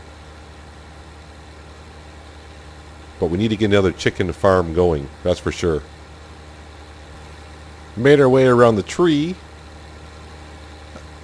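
A tractor engine in Farming Simulator 19 idles as a low, steady hum in the background while someone talks over it in two stretches.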